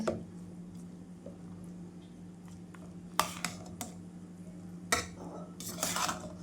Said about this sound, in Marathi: आपण आता मिक्स करून घेऊ